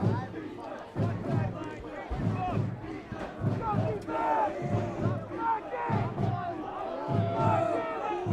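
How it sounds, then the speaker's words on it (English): A crowd at a high school varsity football game chants "defense" in a rhythmic repeated cadence, loud and sustained, with a commentator talking over it. "The crowd's getting riled up again as they're chanting defense."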